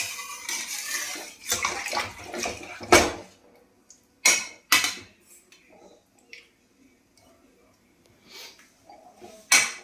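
Water being poured into a cooking pot makes splashy gushing bursts that start and stop, mixed with clinks of pots and quieter gaps.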